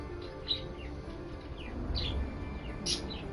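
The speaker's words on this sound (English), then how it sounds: "My birds are gonna be cranky in the morning. I haven't covered them up yet. You can probably hear them." Pet birds chirp indoors, several short high tweets scattered over a steady low household hum and computer noise, fairly faint and without talking.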